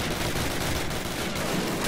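Call of Duty video game gunfire, a dense continuous rattle of rapid shots that fills the whole moment at steady loudness with no voice.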